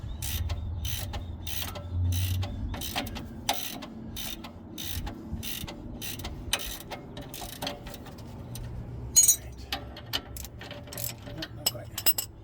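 A socket wrench ratchets as it loosens a bolt during a Ford 9-inch axle swap into a Jeep YJ Wrangler, giving rapid repeated clicks and creaks in bursts, close up, over low background rumble.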